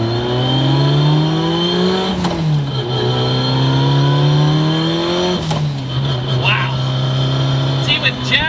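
A 900 HP turbocharged Mitsubishi Evo accelerates hard, its engine note climbing loud and close, then dropping sharply at two gear shifts before rising again.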